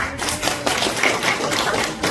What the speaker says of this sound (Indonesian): Yeay, tepuk tangan.